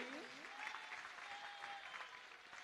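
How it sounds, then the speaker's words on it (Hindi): Steady applause from an audience at a Jain religious gathering honoring disciples, dense continuous clapping throughout with a faint voice trace underneath. "जोरदार तालियां बजाइए।"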